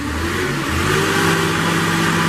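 A Kohler engine on a 2017 Moffett M8 55.3 truck-mounted forklift turns over and catches, then settles into a steady, loud running drone close by, with no talking.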